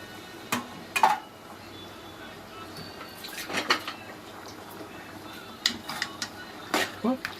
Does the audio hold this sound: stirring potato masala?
yes